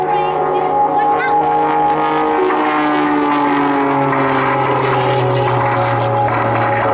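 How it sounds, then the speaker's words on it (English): A Pitts Special aerobatic biplane climbs steeply at an airshow, its loud propeller engine droning continuously with a pitch that slowly falls as it loses speed. "see how extraordinary it just carries on going up, even though there's virtually no airspeed left on the aircraft at all"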